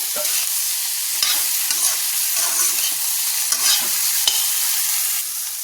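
Elephant apple pieces and potatoes fry together in hot oil for a lunch dish, giving a steady nearby sizzle broken by repeated scraping stirs, with no voices present.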